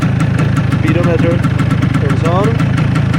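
A kick-started motorcycle engine idles steadily with a low, even throb, while a person talks over it throughout.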